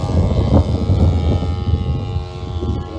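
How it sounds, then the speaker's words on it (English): A large radio-controlled model airplane roars past at a flightline event with a loud, throaty propeller engine drone that wavers in pitch as it flies. "this airplane is huge and sounds incredible as well"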